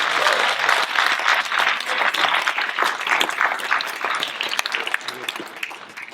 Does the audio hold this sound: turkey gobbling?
no